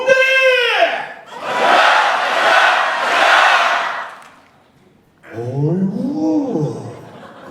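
Rally crowd at a Korean political event roaring a loud, sustained cheer in swelling waves, framed by a single voice shouting before and after.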